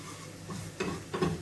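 Flour frying in a pan for a home-cooked meal, a soft steady sizzle with two brief stirring scrapes, close and fairly quiet with no talk.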